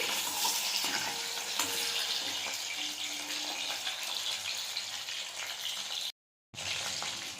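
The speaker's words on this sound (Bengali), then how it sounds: "এগুলো ভাজা হয়ে গেছে এইভাবে সব কটা পপকর্ন ভেজে নেব" Steady crackling and sizzling of chicken popcorn pieces frying in hot oil, continuous and fairly close, with a brief silent gap near the end.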